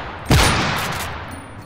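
A gun in Minecraft with the Flans Mod fires one sharp, loud shot that leaves a long fading echoing tail.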